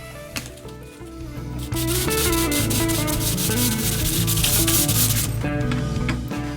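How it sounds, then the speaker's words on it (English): Sandpaper rubbing back and forth on the saddle of a 1965 Gibson LG1 acoustic guitar bridge during repair, a loud, steady scratchy scrubbing that runs continuously with no voices. "Get some sandpaper here."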